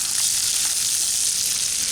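Bacon frying in a pan for keto cheese and bacon soup, a steady, close, bright sizzle and crackle with no pauses and no talk over it.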